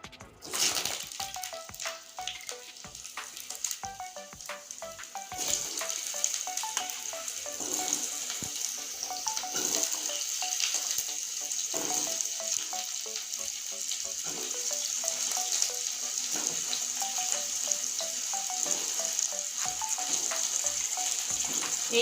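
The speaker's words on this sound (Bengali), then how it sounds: "দেখুন সর্ষের তেল দিয়ে দিয়েছি এখন আমি এই আলুটা আগে ভেজে নিচ্ছি" Potatoes frying in mustard oil, with a steady hiss of bubbling oil that holds throughout, a few clatters of stirring near the start, and a faint tone running underneath.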